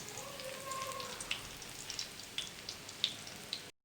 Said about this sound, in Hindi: इस तरह आपने इसको फ्राई कर लेना है।